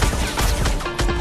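Mech cannons fire in an animated sci-fi action show, a dense barrage of rapid, loud blasts and rumbling impacts packed closely together over about a second.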